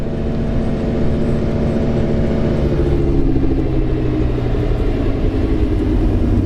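Nissan S15 drift car engine rumbling at a cars and coffee meet, a steady loud low drone with shifting mid-range tone as it passes close by, no talking.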